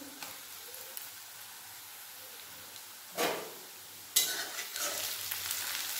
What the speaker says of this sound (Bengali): রসুন ও পেঁয়াজের সাথে ভালোভাবে ভেজে নেব।